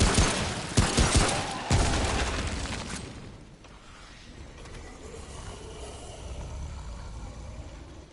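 An enemy's rifle fires several sharp shots in a fast burst in the video game Remnant from the Ashes, loud at first, then the shots die away into a low, rumbling game ambience.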